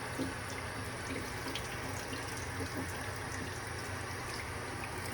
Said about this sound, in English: now first we're just going to rinse our hands really quickly